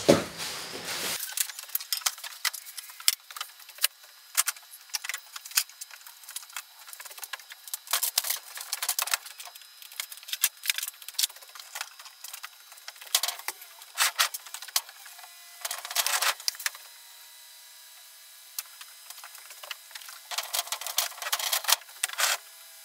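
A Japanese fusuma sliding door being fitted back into its track in a room, heard up close as a long run of scattered wooden rubs, knocks and scraping bursts over about twenty seconds, with no talking.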